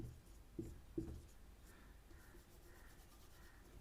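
Writing during a math lesson, with a few soft scratching strokes and a couple of louder taps near the start, followed by faint continuing scribbles.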